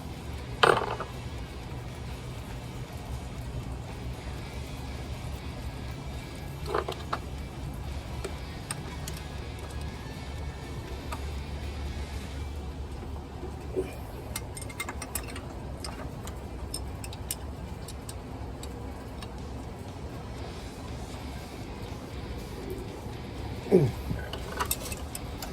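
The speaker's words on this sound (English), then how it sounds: "I had to do it with a wrench because it's so" A wrench tightens the camshaft position sensor on a 2011-2017 VW Jetta 2.0 liter engine, heard as a steady run of close ratcheting clicks under low background hum, with a few louder knocks.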